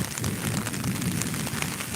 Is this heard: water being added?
no